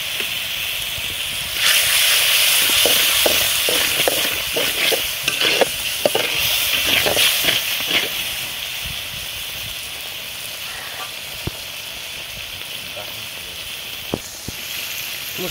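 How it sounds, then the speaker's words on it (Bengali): Ground chili and coriander powder with salt sautéing in a hot pan, a steady sizzle with repeated scraping stir strokes, close and fairly loud, easing toward the end. "এখন এই সবগুলো মশলা আমি ভালোভাবে কষিয়ে নেব।"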